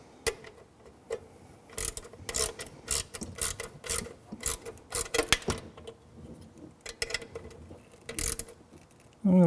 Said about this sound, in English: So I'm going to bolt this down real quick